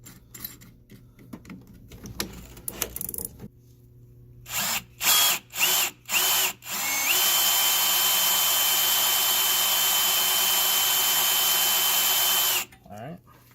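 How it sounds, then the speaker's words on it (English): A small bit in a power drill bores a hole in a BMW E36 part held in a vise: a few short whirring bursts, then one long loud steady whine before it stops, with handling clatter around it. "I'm going to start with a small drill bit just to get the hole started."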